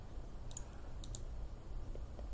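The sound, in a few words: computer mouse clicking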